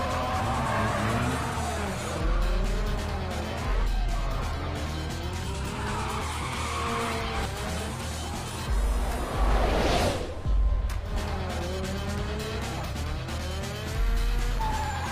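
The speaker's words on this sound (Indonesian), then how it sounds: "Saat Sean udah hampir mahir, lalu dia balapan dengan Han" Cars race and drift in a Fast and Furious 3 (2006) street race, with roaring engines and long, repeated tire squeals and skids that swell and fade over a dense, loud mix.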